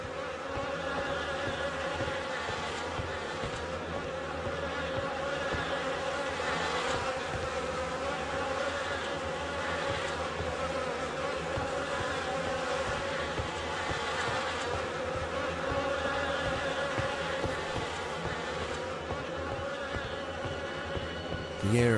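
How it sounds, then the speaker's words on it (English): Dense, steady buzzing of a swarm of insects in The Fidelio Incident, a continuous drone filling the whole stretch without pause, with no voices over it. "The air is heavy with the stink of rot and the buzzing of those damned insects"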